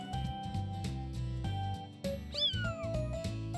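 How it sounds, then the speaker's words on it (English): A cat in a pet shop video game gives one rising, drawn-out meow over steady background game music, clear and close. "I heard an excited meow"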